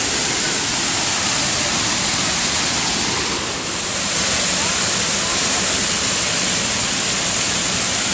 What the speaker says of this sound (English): that's a lot of water falling out, y'all